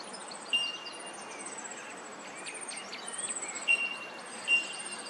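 Soft, high chirps and twittering calls from small birds along the Nepean River come and go over a steady background hiss of insects.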